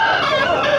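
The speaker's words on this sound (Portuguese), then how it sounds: "Bocado de galinha" Chickens at a chicken market in Cachoeirinha, Pernambuco, clucking and crowing in a dense, continuous din, loud and close, with no clear gaps between calls.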